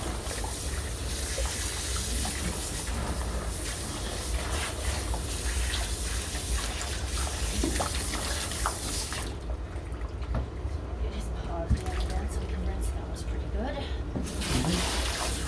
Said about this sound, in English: now I'm gonna give him a rinse because he's pretty soaked up everywhere